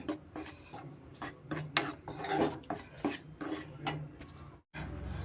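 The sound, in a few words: rice flour being roasted and stirred in ghee in a pan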